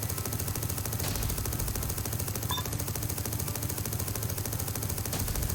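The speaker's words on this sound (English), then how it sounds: "I like the miniguns are there for a bit of sustained damage." Sustained minigun and cannon fire from turrets in the video game TerraTech, a dense continuous rattle of rapid shots with a few brighter pops over it, loud and unbroken throughout.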